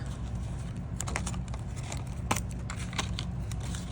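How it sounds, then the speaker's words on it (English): Tape run along the side and top of a sculpted cake gives small dry crackling ticks and brief scrapes over a steady low hum, close and fairly quiet, with one sharper crinkle partway through. "I can just run my tape along the side and the top"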